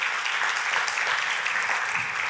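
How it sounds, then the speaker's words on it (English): A church congregation applauds, a short burst of dense, even clapping from a full room that holds steady throughout. "Give yourselves a round of applause."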